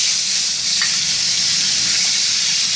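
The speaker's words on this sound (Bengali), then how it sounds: "দেখো কড়াইয়ে তেল দিয়ে দিয়েছি। এবার ডিমটাকে ভেজে নেবো।" An egg rubbed with salt and turmeric fries in hot oil in a kadhai, producing a loud, steady, close-up sizzle that runs unbroken throughout with no voices.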